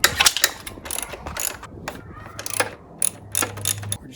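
A socket ratchet working bolts loose on the rear linkage of a Sur-Ron electric dirt bike, with rapid clicking bursts, metallic clinks and pauses, recorded close up.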